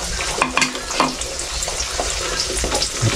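Red shallots fry in a pan with a steady bright sizzle, broken by the clink and scrape of stirring, close and fairly loud throughout.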